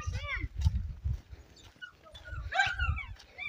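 A dog barks and yips repeatedly at night in a yard, several short barks spread across the moment, mixed with a person's voice nearby.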